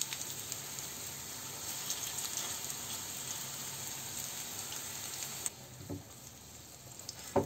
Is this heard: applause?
no